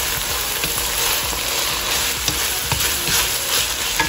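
Pork filling for empanadas sizzles steadily in a frying pan while a utensil stirs and scrapes through it, with a few sharper clicks of the spoon against the pan and no talking.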